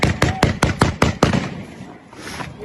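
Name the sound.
bursts of gunfire close by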